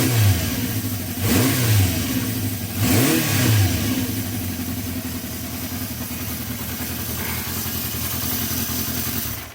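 A Honda CB350 motorcycle engine runs with the choke off, blipped through two quick throttle revs early on, then settling into a steady, loud mid-pitched idle close by.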